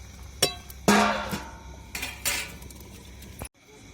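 A metal lid set down onto a cooking pan of drumstick masala fry, a few sharp clanks and rattles as it settles, loud and close, with no talking.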